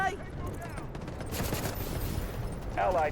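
Bursts of rapid gunfire in the shooter game Delta Force, loud and continuous under excited shouting from players, with a sharper burst near the end.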